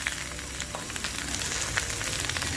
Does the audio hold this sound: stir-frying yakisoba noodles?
yes